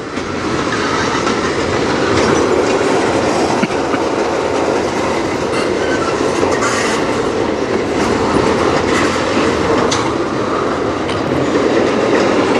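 A slow-moving CSX freight train rolls past on the rails in a steady, loud, close rumble with faint clickety-clack of wheels over joints and occasional light squeals, lasting throughout without talk.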